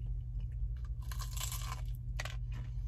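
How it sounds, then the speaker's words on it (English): Biting and chewing crunchy battered cod from fish and chips, close crackling crunches in two bursts over a low steady background hum, no speech. "Nice crunchy batter, very mild flavor that you get with cod."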